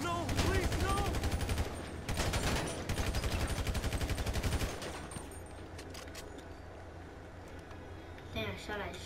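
Rapid automatic gunfire rattles in loud, sustained bursts during Grand Theft Auto V gameplay, two long volleys followed by quieter scattered shots, with a player's voice heard alongside.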